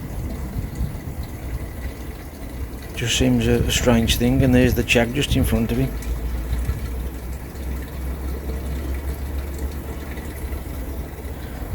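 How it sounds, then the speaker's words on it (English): Garden hose pipe left on spray over a koi pond gives a constant hissing wash of falling water, with someone talking over it for a few seconds partway through. "I've left it on spray onto the pool because of Goldie."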